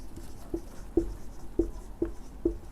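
Handwriting notes, likely with a pen or chalk, making five evenly spaced soft taps and short scratches, close and quiet with no talk over them.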